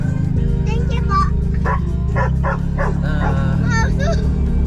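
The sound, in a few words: dog barking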